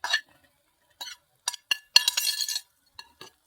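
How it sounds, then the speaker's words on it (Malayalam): Sliced eggplant tipped into a pan of masala and stirred, giving a few sharp, close clinks and scrapes of a utensil against the pan in short separate bursts, then a denser clattering stretch of stirring. "നമുക്ക് മുറിച്ച് വെച്ച വഴുതിനിങ്ങ ഇതിനകത്ത് തട്ടിക്കൊടുക്കണം"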